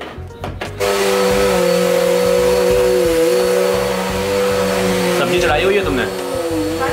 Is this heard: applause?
no